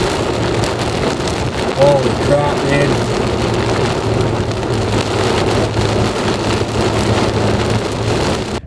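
Heavy rain drums on a surface during a storm, a dense and continuous downpour heard up close, with a man briefly exclaiming over it early on.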